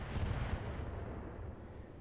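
Mortar fire in the mech strategy game RogueTech, a dense, sustained low rumbling boom that stays loud through the whole short moment with no voices over it.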